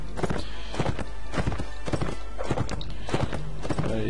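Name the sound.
horse hooves in video game Mount&Blade Warband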